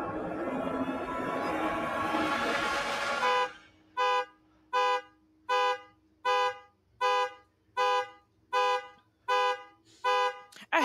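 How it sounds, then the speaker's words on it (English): A car alarm blares: a loud warbling siren rises and falls for a few seconds, then switches to a series of evenly spaced honks, about a dozen repeated at a steady rhythm. "I hate car alarms."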